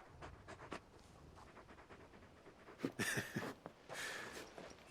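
Torgal, the large wolfhound companion in Final Fantasy XVI, pants in short bursts of breathy exhalations, moderately close, with a few brighter rushes of air near the end and no talk over it.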